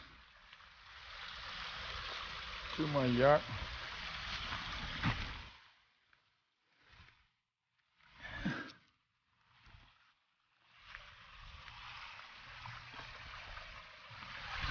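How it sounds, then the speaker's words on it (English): Water rushes out of a koi pond skimmer being flushed, a steady hiss that stops, gives way to a few faint noises and a brief spoken phrase, then resumes near the end. "So I'm gonna flush the water. Water gonna go underneath here and running out here."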